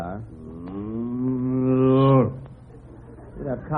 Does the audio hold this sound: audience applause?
no